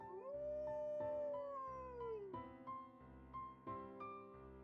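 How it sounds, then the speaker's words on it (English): A wolf in Dragon Quest X lets out a long, loud, rising howl, followed by several shorter wavering howls that trail off, clear and alone with no talking. "Xena let out a joyful, loud howl and ran across the land of Zenith"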